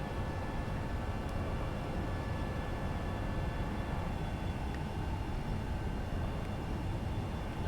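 Steady low engine roar of a Boeing 737-800 in the X-Plane 11 flight simulator, with engine 1 on fire at 10,000 feet, a constant even rumble without talk.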